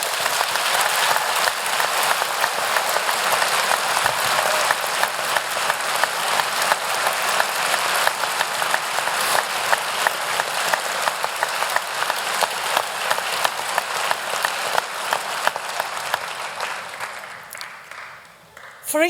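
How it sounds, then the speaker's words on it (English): Sustained, dense applause from a graduation ceremony audience honouring the new graduates, steady and loud for about seventeen seconds before tapering off at the end. "they deserve a warm round of applause"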